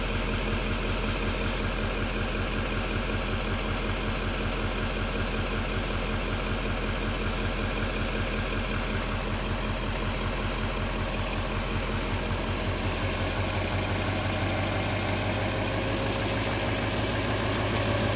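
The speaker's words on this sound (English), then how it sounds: "I'll bump the speed up here to 1450 again" An LML Duramax diesel engine runs steadily at a raised 1450 RPM, producing a constant, loud, dense rumble close by. Its tone shifts slightly near the end, and no one speaks.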